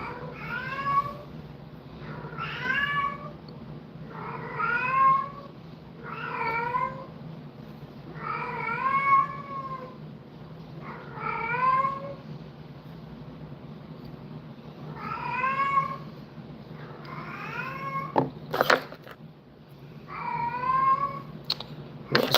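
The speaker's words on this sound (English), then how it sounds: "You probably hear a cat out there." A cat meows repeatedly outdoors, about a dozen drawn-out calls at steady intervals, moderately near, with a couple of sharp knocks late on.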